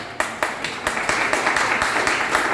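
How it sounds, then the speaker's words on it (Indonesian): Church congregation clapping for God during a sermon, a loose, fairly rhythmic run of hand claps close by and loud, with no voices over it. "Yang mau berubah tepuk tangan bagi Tuhan"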